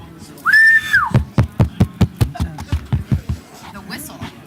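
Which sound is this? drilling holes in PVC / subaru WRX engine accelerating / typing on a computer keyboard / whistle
whistle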